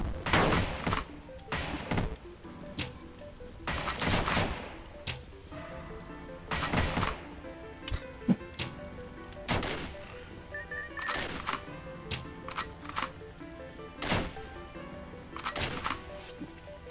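Repeated shotgun blasts from the game Dungreed, sharp loud booms in irregular bursts of one to three shots spread across the stretch, over a steady backdrop of game music.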